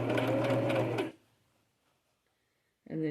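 A new sewing machine runs its motor in a steady close whir of stitching, stops for nearly two seconds of near silence, then starts again.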